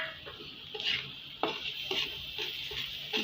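Egg and spiny gourd fry in a pan with a soft, steady sizzle, and a utensil scrapes and stirs in short, repeated strokes close by, fairly quiet overall.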